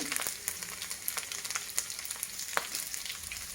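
Mustard seeds, cumin and garlic sizzle in hot oil, a steady crackling hiss scattered with sharp pops from the seeds, close and moderately loud with no voices.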